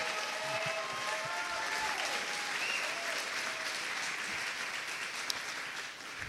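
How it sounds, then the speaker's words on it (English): At the Ignite Tampa Bay 2014 opening, a hall audience applauds the chairperson with sustained, even clapping, moderately distant, with faint whistles and crowd noise mixed in. "Let's give her a round of applause."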